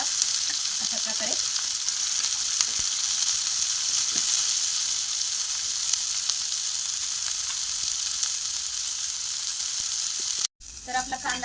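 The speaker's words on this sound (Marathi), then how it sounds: "कांदा पूर्णपणे आपल्याला लाल करून घ्यायचा आहे" Onion and spice masala for mattar paneer sizzles and fries steadily in a pan, a loud continuous hiss with a few faint stirring clicks, close up and without talk until a brief break near the end.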